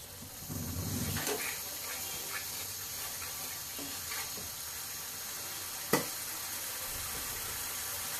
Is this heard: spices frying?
yes